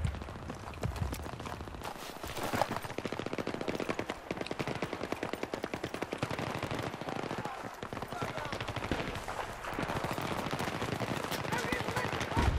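Bursts of rapid automatic gunfire from a shooting video game, dense and continuous for several seconds with short gaps, while players talk excitedly over the shots.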